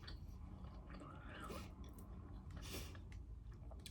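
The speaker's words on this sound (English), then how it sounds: "I should probably put a warning on this if you don't like chewing sounds" Close, wet chewing of white chocolate, with soft crunching and squishy mouth sounds repeating steadily for a few seconds, with no talking.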